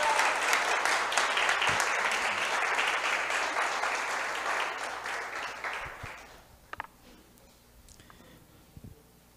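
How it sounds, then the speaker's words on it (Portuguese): A church congregation claps in sustained applause for several seconds, dense and roomy, then fades out, leaving a few scattered claps and quiet room sound. "Você pode dar um aplauso ao Senhor?"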